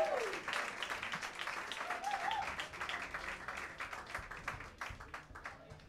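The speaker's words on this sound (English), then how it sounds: "Give them one more round of applause." An audience applauds the Mesa College Jazz Ensemble at a live music session, steady dense clapping from a crowd filling the room and tapering slightly at the end, with a voice briefly over it.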